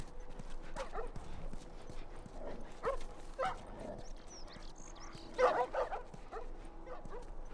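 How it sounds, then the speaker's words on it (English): Wild dogs in The Last of Us, a video game remastered on PS5, give several short barks and yips scattered through the clip over steady background game ambience, with one louder burst near the end. "So we just got to some wild dogs."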